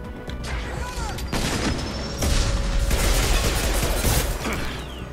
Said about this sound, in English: Switch back to heavy pistol.